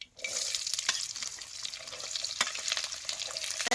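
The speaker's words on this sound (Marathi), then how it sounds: "आता हे कांदा तेलात चांगला खालवर करून घेतो." Chopped onion fries in oil with cumin and mustard seeds, giving a dense, continuous close sizzle with a few stirring scrapes and no talking.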